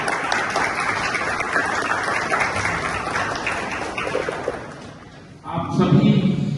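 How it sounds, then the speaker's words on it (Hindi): Audience applause at a college interview skill development workshop, steady dense clapping for about five seconds, then a short dip before a louder burst of clapping and crowd noise returns near the end. "तो एक बार जोरदार तालियों से"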